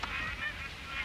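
Geese honk in a flooded wetland during the wet season, a brief burst of nasal calls overlapping one another at moderate distance over a steady background wash.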